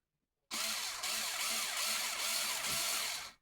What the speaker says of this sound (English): So we're just going to mark a couple holes with this drill bit.